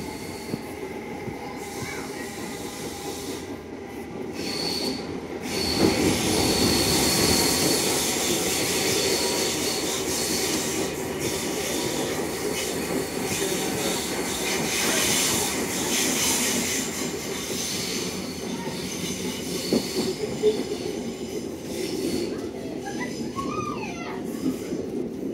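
A Southern Class 455 electric train runs on the rails between London Victoria and Epsom Downs, giving a steady loud rumble of wheels and track noise with some squeal and swells in level throughout.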